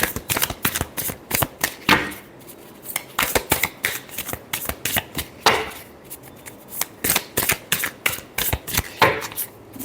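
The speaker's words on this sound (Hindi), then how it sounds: "Last shuffle." Tarot cards being shuffled by hand, a run of quick crisp riffling bursts with brief pauses between them, close and fairly loud with no talking.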